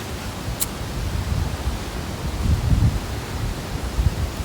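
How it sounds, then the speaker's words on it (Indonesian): Wind buffets a microphone outdoors at a stone grave site, a steady broadband rumble with gusts swelling louder around the middle and near the end, no talk heard. "Angin."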